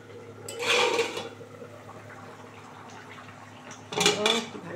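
Metal pot lid lifted off a pot of simmering potatoes being cooked for an egg and onion curry, giving a short clatter, then a second louder clank a few seconds later, with quiet room noise between.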